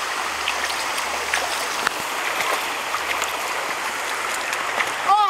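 Shallow stream water flows and trickles steadily around someone wading, with splashes and faint movement close by.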